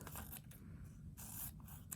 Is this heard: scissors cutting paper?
yes